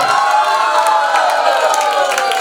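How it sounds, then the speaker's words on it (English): Party guests at a birthday celebration cheer and shout for a team, a dense, loud crowd roar that holds steady for the full stretch with raised voices blending together. "clap hands for team Mama's Boy"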